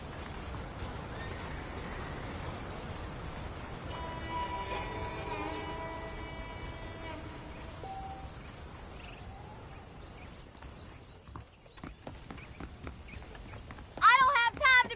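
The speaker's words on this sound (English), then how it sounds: "The horses are saddled up over here." Horses in a Western-style video game, with soft hoof clip-clop and ambient insect and bird sounds under a constant outdoor bed, then a brief sharper burst near the end.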